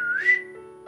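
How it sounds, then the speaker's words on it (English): A person whistles one short, clear rising-then-level note that holds briefly and fades, close and fairly soft, with no talking around it. "they just whistle like this."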